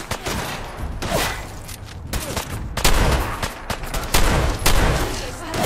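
Rapid bursts of gunfire from a firefight in the video game Fallout 4, loud and close, with repeated volleys through most of the stretch and a voice talking over them.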